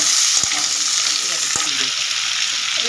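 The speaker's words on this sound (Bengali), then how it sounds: "গোটা জিরে দিয়ে দিলাম ওটাকে আমি দিয়ে দেবো লাল করে ভেজে নেব" Whole cumin seeds crackle in hot oil in a pan, a loud steady close sizzle with two sharp knocks of a spoon against the pan.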